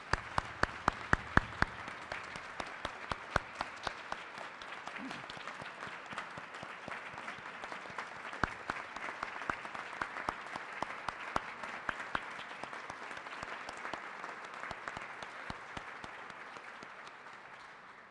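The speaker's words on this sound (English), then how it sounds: "Let's give one more round of applause to today's honorees." A large audience at the 2024 Kentucky Governor's Awards in the Arts applauds its honorees, sustained steady clapping with a few sharper close claps at the start, continuing evenly throughout.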